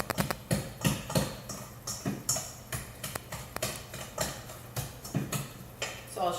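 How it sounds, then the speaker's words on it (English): A pastry blender works butter into dough in a bowl, making steady, rhythmic tapping and clicking strokes for several seconds, close up and fairly soft, with no voices. "I'm just going to use my pastry blender"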